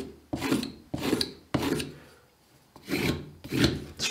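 A knife edge being honed to remove the burr, heard as four distinct rasping strokes, each a loud, bright scrape lasting about half a second, with short gaps between them and no talk.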